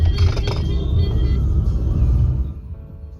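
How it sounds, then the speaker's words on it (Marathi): Morning road traffic at Chakan junction: a steady low rumble of passing vehicles, close and fairly loud, thinning out toward the end. "ट्रॅफिक आहे सकाळी सकाळी इथे खूप."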